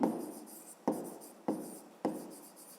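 Pen strokes on paper while working a fifth-grade math exercise, four short scratchy strokes at a steady pace, close and quiet with no talking.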